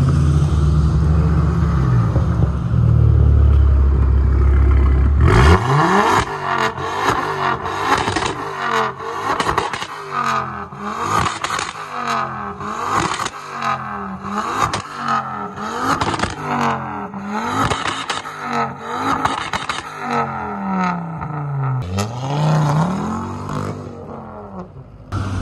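Ford Focus at a car meet accelerating hard, a loud, close engine roar with repeated revving bursts and gear changes over about twenty seconds, following a quieter low rumble at the start.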